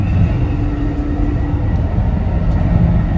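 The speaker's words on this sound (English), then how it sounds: "Train's rocking." Steady, loud rumble of a train carriage rolling and rocking along the rails, continuous low clatter throughout with no talking.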